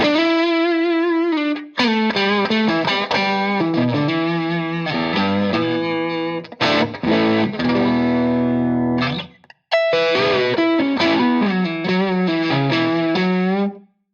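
Electric guitar through a small mini amp on its overdrive channel with the gain lowered to an in-between clean tone, playing a continuous, loud run of chords and melodic lines with a brief pause near the end.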